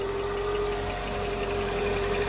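A Mercedes engine idles steadily after sitting unstarted for about a year, giving a constant low hum with a faint belt or pulley tick. It is close and moderately quiet, with no talking.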